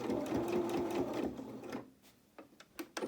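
A sewing machine stitching slowly along a channel in a stiff French seam on a doll's dress, a short close whirring burst that stops, then a few light clicks and taps.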